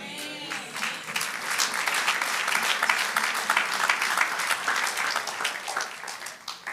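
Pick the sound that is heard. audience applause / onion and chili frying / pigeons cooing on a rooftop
audience applause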